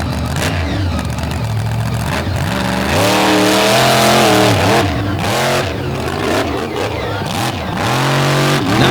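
A monster truck engine roars and revs loudly after refiring, its pitch sweeping up and down in repeated throttle blips, close and dominant.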